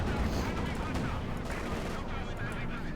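Artillery barrage in Company of Heroes 2 pounding sheds and Soviet troops: a dense, continuous roar of overlapping booms and gunfire rumbling steadily throughout, with speech over it.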